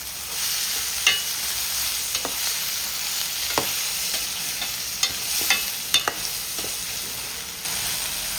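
Tomatoes fry with salted onions in a pan, giving a continuous loud sizzle broken by several sharp clicks from stirring.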